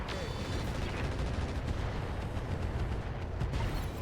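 Heavy weapon salvo from the Sentinel mech in the RogueTech BattleTech game, a dense continuous barrage of booming gunfire and rumbling impacts, loud and sustained throughout with no clear gaps.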